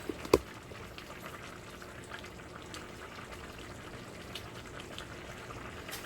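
Cooking oil heats in a pan on the stove, a faint steady crackle and bubbling hiss with one brief louder knock near the start.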